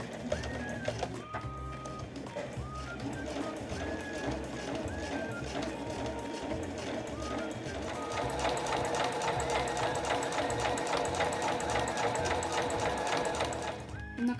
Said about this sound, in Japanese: そしたらこのエッジのところをこの端のところに合わせて縫います。